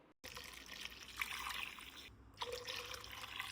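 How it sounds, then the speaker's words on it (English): Water runs into a soup pot for Mexican meatball soup, a soft, steady trickling stream that briefly pauses and resumes, fairly faint and close. "Add the blended mix back into the pot and fill with water about 3/4 of the way."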